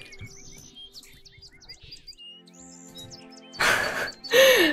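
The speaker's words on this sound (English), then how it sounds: "Oh, I love the birds!" Birds chirping in Minecraft, a run of bright high tweets and whistles repeating quickly, followed by a couple of louder breathy bursts near the end.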